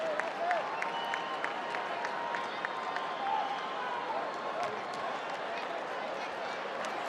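Crowd at a World Baseball Classic qualifier game between Spain and Chinese Taipei cheering and applauding, a broad steady roar across the stadium with scattered whistles and shouts, heard at moderate level behind the game.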